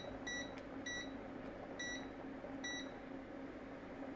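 A cooking hob gives a sequence of short, bright electronic beeps, about four separated pips spread over a few seconds, as the heat is turned down under a pan nearing the boil, over a steady background hiss.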